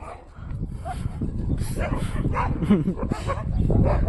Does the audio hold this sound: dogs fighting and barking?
yes